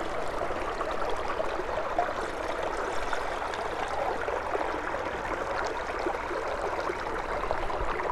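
Water pours steadily from a 32-ounce Nalgene bottle into a GSI Halulite 1.1-liter boiler pot, a continuous close splashing gush with no break.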